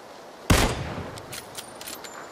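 A gunshot in the PUBG Battlegrounds video game: one sharp, loud crack, followed by a few faint, distant pops.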